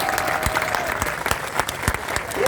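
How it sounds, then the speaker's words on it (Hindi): A crowd at a public gathering in Jaipur with Rajasthan police present breaks into brief, dense applause, steady clapping close by for a couple of seconds. "सब ताली बजाइए।"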